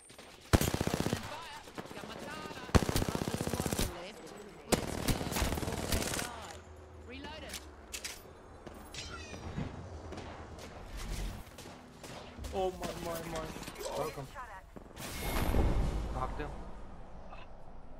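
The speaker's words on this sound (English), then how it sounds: "I'm opening fire." Automatic gunfire in the video game Apex Legends, loud rattling bursts of shots in several bursts, heard alongside in-game voice lines and player talk.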